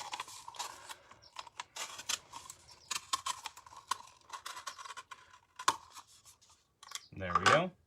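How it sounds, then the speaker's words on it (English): A utility knife cuts the bottom out of a paper cup, giving close, irregular scratchy scraping and crackling of blade through paper, quiet and intermittent, followed by a brief spoken voice at the end. "Take a little handy-dandy utility knife, and I'm just going to cut the bottom of our cup right out of there."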